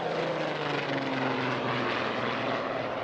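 Wartime B-25 bomber aircraft taking off from the flight deck of the carrier Hornet, a steady loud propeller engine drone that holds throughout with no speech.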